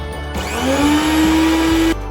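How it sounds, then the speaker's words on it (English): A blender motor whirs loudly and continuously at close range, its pitch climbing slightly as it spins up, blending ingredients for seblak. "and turn on the blender."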